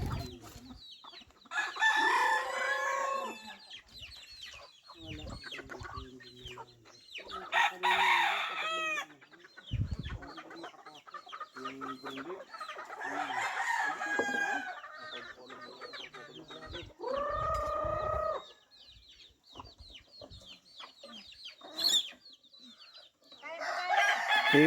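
Native chickens on a rural farm plot in the province, with repeated roosters' crows and hens clucking at varying distances throughout, alongside scattered bird calls and outdoor background noise.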